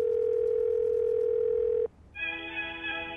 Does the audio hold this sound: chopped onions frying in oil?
no